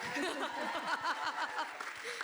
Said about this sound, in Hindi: जोरदार तालियां तभी हम जाएंगे